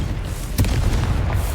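Confringo fire spell explosion in Hogwarts Legacy, a sudden loud boom with a sharp crack followed by heavy rumbling, close and dense, with a second smaller burst near the end.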